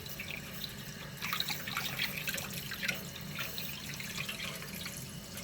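A gentle stream of water runs steadily while a guinea pig is bathed, a soft, even splashing trickle at low volume with no one speaking.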